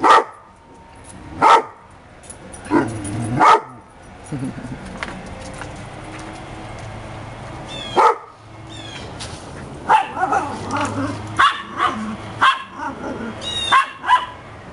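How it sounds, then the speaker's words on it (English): Dogs bark in sharp separate outbursts spread across the clip, over a steady background murmur with some voices. "Bark, bark, bark, bark"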